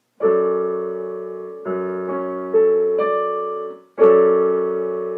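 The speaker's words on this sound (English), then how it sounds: "I can play it on the piano" Piano chords, a major seventh chord with the third in the bass, struck four times, each ringing out and slowly decaying before the next, with a loud attack on the last one.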